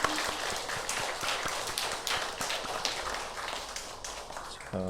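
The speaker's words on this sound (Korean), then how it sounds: "우리 다 함께 박수 한번 해주실까요?" Worshippers at a Sunday service at a university church in Korea clap together, a quiet but steady patter of many hands with distinct sharper claps scattered through it, and little talk.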